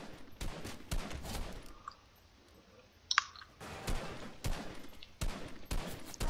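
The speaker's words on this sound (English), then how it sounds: "Welcome to Tennessee with our explosions everywhere" Bursts of Fortnite gunfire and blasts come in clusters between quieter gaps, with one sharp crack in the middle, loud and close.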